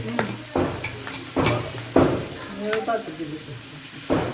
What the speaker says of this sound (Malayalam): ഇപ്പൊ നമ്മുടെ ഇറച്ചിയൊക്കെ ചൂടാക്കാണ്